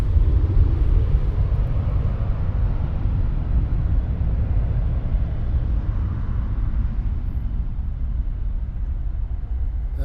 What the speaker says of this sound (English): was United Express Embraer taking off in a westerly direction